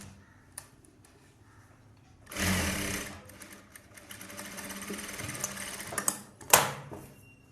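A sewing machine stitches a folded hook strip for a blouse, running in a sustained whirring burst of rapid stitching that slows and picks up again, punctuated near the end by a sharp mechanical clack.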